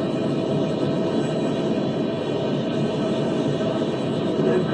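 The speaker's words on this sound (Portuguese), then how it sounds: "Este é o caça FA-18" An F/A-18 Super Hornet fighter jet flies near and over the aircraft carrier CVN 74, producing a steady, dense roar that holds at constant loudness without a break, with no talking.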